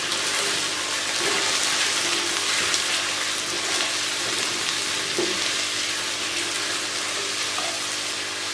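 Potatoes frying in hot oil in a pan for an aloo matar gajar dish, a loud continuous broadband sizzle holding steady throughout, close and without voices.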